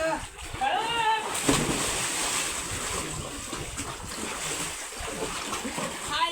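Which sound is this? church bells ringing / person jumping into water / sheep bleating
person jumping into water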